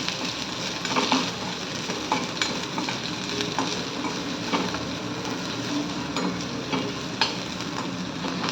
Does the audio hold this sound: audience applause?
no